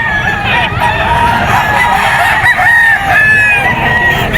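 Several roosters crow loudly and close together at a pet market in Bocaue, overlapping calls one after another with clucking fowl in the background.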